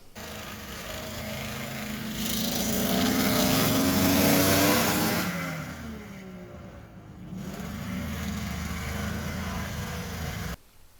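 A straight-piped Arctic Cat ZRT 600 snowmobile engine with a broken engine mount runs loud and close, rising in pitch and volume, easing off, then climbing again to a steady roar before cutting off abruptly.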